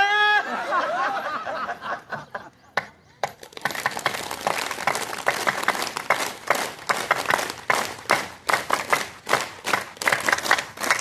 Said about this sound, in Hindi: ऐसे 2, 4, 5 मिनट तेजी से ताली बजाएं